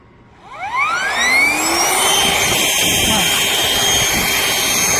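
An Uncle Elk car back-seat air mattress pump whines up quickly with a rising motor pitch, then settles into a loud, steady blowing drone that carries on close and continuous to the end.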